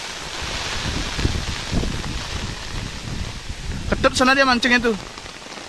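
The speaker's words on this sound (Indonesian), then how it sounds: "Tuh hujannya lagi turun, hujan angin." Rain and strong wind roar in a constant hiss during a fishing outing at sea off Bali in the rainy season, with gusts buffeting the microphone while someone talks near the end.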